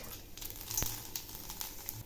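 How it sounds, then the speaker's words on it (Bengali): Dried red chilli, cumin, bay leaves, cloves and crushed cardamom sizzle gently in hot oil for a cauliflower korma, a soft, faint crackle close by with one sharper pop. "এখন আমি ওই তেলে একটা শুকনো লঙ্কা ফোড়ন দিলাম"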